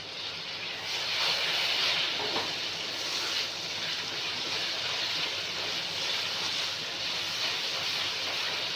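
Tomato cooking in a pan on a chicken curry base for aloo gobi with chicken, a steady, even hiss of sizzling that carries on without a break.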